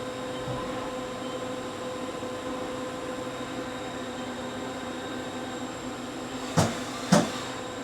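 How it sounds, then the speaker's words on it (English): A steady, loud drone from the gearbox fan of a 1997 Haas VF3 CNC machine, with a constant hum and broadband whir throughout, broken near the end by two brief sharp clunks. "Can't help with the fan on these gearbox machines, it's quite loud."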